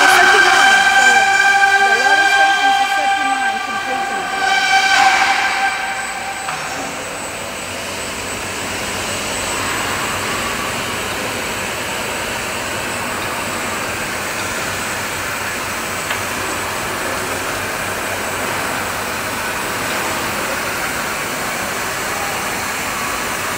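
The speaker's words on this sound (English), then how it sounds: "The line was completely made from wall panel with chain driving and beam structure, and the rolling stations is 36." A PU rolling shutter slat production line with 36 chain-driven rolling stations on a wall-panel beam frame runs with a loud, steady mechanical roar, a brief whining tonal burst at the start before settling into a continuous drone.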